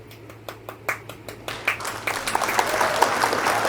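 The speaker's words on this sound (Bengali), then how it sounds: "হাততালি দিন সবাই।" Clapping for the winner of a phuchka-eating contest starts as a few separate near claps, then builds into fuller steady applause from a small group.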